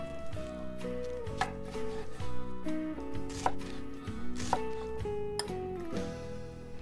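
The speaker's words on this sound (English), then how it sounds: "Here I'm chopping up 1 quart of grape tomatoes." Quick knife chops through grape tomatoes on a cutting board at an uneven pace, close up, with steady tonal music playing underneath.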